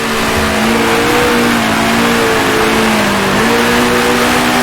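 A 1966 Formula One race car in Grand Prix Legends at the Dutch Grand Prix, its engine screaming loud and close as it holds high revs, with a brief dip and rise in pitch around a gear change.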